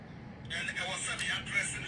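A mobile phone rings with a bright electronic tone that starts partway through and continues steadily, moderately close, while a person talks over it.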